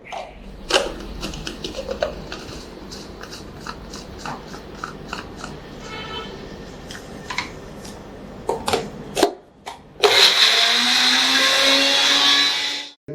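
A mixer grinder crushing mustard seeds and dal for a pork vindaloo spice paste: assorted clicks and knocks first, then the motor whirs loudly and steadily for the last few seconds.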